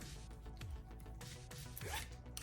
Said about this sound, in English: And cute little lemon zipper.